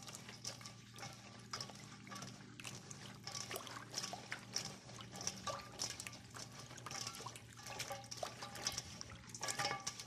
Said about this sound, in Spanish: Vamos a lavar los ejotes porque como puedan tener polvito